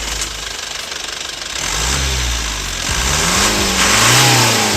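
An Isuzu 4JA1 diesel engine, as fitted to the Isuzu Crosswind and Highlander, idles with a clattery knock and then revs up in several rising surges, close and loud with no voices.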